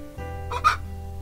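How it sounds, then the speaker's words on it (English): A chicken clucks in the video game Summer Pockets: one short double cluck rises over a steady low background hum and then fades, heard alone with no talking. "Why is there a chicken in the house?"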